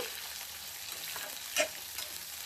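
Sliced onions fry in a pan for mushroom gojju, a steady close sizzle with a brief louder scrape of stirring partway through.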